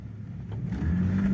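A BMW E46 325i idling in drive just out of a garage, its low engine note dipping slightly then rising and strengthening as the throttle is touched, steady and fairly close with no talk.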